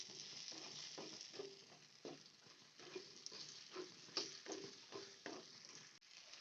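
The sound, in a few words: small onions frying in a pan for Kerala sambar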